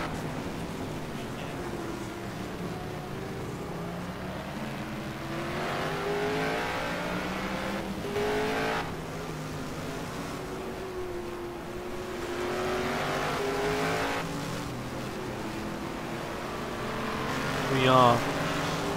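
1971 Can-Am race cars at Watkins Glen roar past in a steady engine drone with rising revs, swelling passes and a brief louder burst near the end, heard under continuous commentary.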